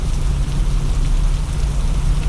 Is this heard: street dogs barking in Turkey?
no